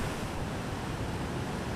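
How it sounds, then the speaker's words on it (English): Spring floodwater in Southern Ontario rushes over in a dense, continuous roar of broadband noise, steady and loud with no pauses or voices. "It's unbelievable the amount of water coming over here."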